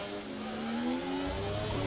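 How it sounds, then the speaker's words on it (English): A Ferrari Formula 1 car in the F1 24 racing game spins its wheels, its engine revs climbing sharply in a loud, continuous whine that rises in pitch over about two seconds. "Oscar Piastri, you could hear him get the wheel spin there, spike the revs in that Ferrari"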